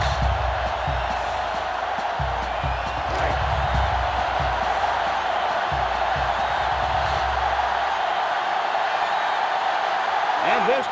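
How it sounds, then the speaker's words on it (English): A large college football stadium crowd roars and cheers continuously during an Alabama versus LSU game, a loud sustained wash of voices with swells, while a commentator talks over it. "This crowd is going absolutely crazy."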